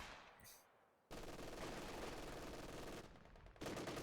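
An MG42 machine gun rattles in a long sustained burst in a real-time World War II strategy match, loud and continuous, pausing briefly before the chatter resumes.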